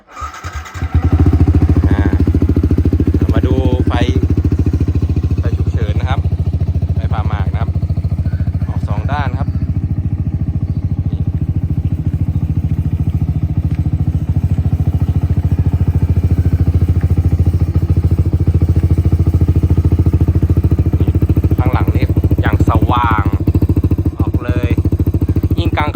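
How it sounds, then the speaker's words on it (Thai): A Yamaha YZF-R15 sport motorcycle engine idles steadily with a low, constant rumble throughout, while a person talks intermittently over it. "มาสตาร์ทฟังเสียงเครื่องยนต์กันนะวอร์มเครื่องแป๊บหนึ่งนะ"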